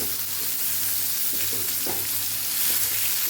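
Shredded ivy gourd (tindora) sambharo sautéing in a hot pan, a steady bright sizzle with faint stirring scrapes, close and continuous with no talking.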